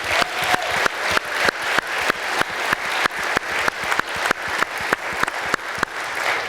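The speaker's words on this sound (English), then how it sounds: "I just like to give a round of applause to all the faculty" Applause from a crowd at a panel discussion, with one loud, close pair of hands clapping in a steady, even rhythm over softer, sustained clapping from the rest of the room.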